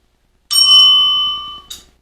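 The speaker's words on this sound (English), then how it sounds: "You heard the bell." A single bright bell ring, sharp and close, sustaining for about a second, then a second short ding, in otherwise quiet surroundings.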